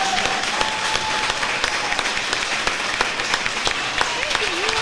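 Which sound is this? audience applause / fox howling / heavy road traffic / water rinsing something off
audience applause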